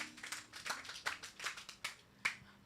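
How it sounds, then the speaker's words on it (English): A group of people clap for a girl, with about six or seven sharp, separate claps spread unevenly over a few seconds, fairly quiet and thin rather than a full round of applause. "Clap for her."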